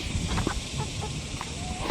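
Turkeys on a farm gather around small water pans on a hot day, giving short clucking and gobbling calls over a steady background hum.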